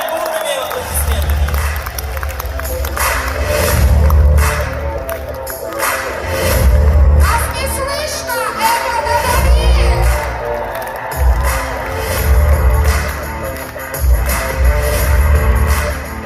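A lecture audience breaks into loud, sustained applause with crowd noise and cheering, rising and falling in surges to welcome a biochemistry professor onstage, and someone speaks briefly over it.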